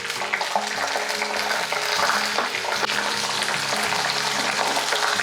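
Garlic sizzling in hot oil with mustard seeds and curry leaves while making a Lavalolikka pickle, a dense steady crackle and hiss that runs throughout, close and fairly loud, with no talking.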